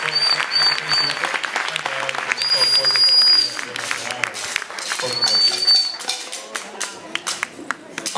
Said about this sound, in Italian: Un altro applauso al gruppo di Distanzi che è veramente forte